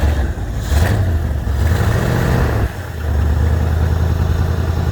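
Carbureted muscle car V8 cranking and catching, then running with uneven revs and a brief dip before settling into a loud, steady idle close by.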